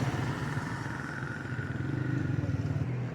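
Motorcycles and other traffic on a busy road in a Punjab village, a steady, continuous engine drone with rising revs and clatter passing close by.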